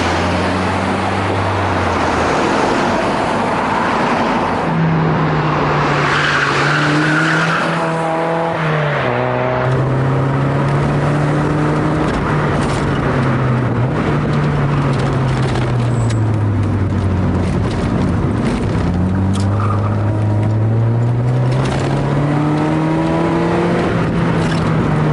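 Mazda MX5 Miata fitted with BC Racing coilovers drives along, engine note rising and falling steadily through gear changes with continuous road and tyre noise, close and loud, no talking.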